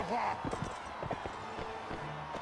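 Horse hooves clip-clop at a gallop in a Mount & Blade Warband battle, a quick, fairly quiet rhythm under someone shouting.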